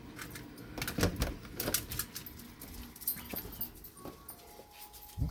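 A dog whimpers and shuffles nearby, faint whines mixed with clicking claws and jangling tags in irregular bursts, close but quiet with no speech.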